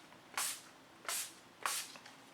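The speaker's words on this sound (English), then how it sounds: "So I'm going to give myself a spray." Makeup setting spray is misted onto a face in three quick, close hissing bursts, each fading off quickly, in a quiet room.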